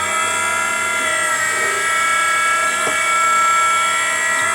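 A Henderson precision case trimmer runs on brass cartridge cases, giving a loud, steady, high-pitched motor whine that holds for several seconds with one brief click partway through.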